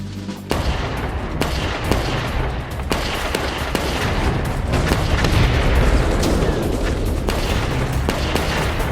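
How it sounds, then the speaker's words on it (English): Small arms gunfire barrage from a World War II attack in France, with dense, continuous volleys of rifle and carbine shots cracking loudly and irregularly over a rumbling battlefield backdrop for the whole stretch. "Winters kick-started the attack with a small arms barrage."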